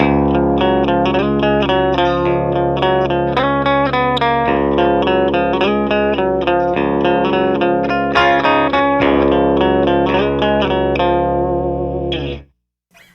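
A distorted electric guitar riff with effects plays over a sustained low open-string pedal tone drone, loud and continuous, then stops abruptly near the end.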